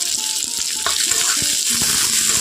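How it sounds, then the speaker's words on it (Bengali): Chopped onion and green chillies frying in hot oil give a steady, close sizzle with faint stirring scrapes throughout, no voices over it. "এখন খুব ভালোভাবেই কিন্তু তেলের মধ্যে কাঁচা লঙ্কা, পেঁয়াজ সবগুলো উপকরণ খুব ভালোভাবে ভেজে নেব"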